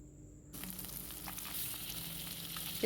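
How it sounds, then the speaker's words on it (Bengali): Eggs marinated with salt and turmeric frying in a pan, with a quiet moment and then a sudden steady sizzle as they hit the hot oil, continuing close and moderately loud. "এবার আমি ওই কেটে রাখা ডিমগুলো একটু নুন হলুদ দিয়ে মাখিয়ে রেখে দিয়েছিলাম, সেইগুলো ভেজে নেব"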